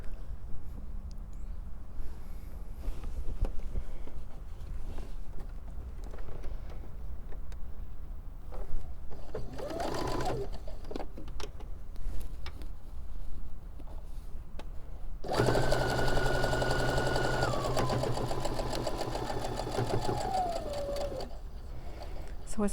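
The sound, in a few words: sewing machine stitching fabric end to end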